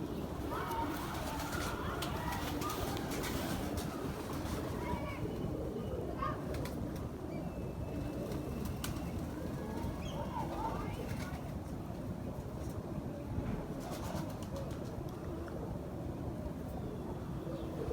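Pigeons coo steadily in a loft or rooftop coop, the soft throaty calls blending with a constant busy background hum; someone talks over them at times.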